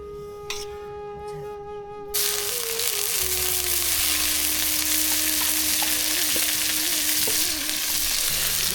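Malabar spinach and sponge gourd frying in a village kitchen, a dense continuous sizzle that swells loudly after a quieter start, with a steady low hum beneath and occasional stirring scrapes.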